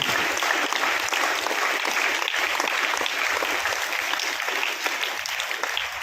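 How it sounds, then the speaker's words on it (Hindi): An audience claps loudly and steadily for a school director at a school gathering, and the applause carries on without a break. "जोरदार ताली पर उनके लिए।"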